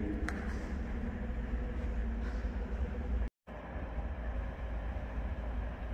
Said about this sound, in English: there's an ethanol train fixing to reverse and go to Charlotte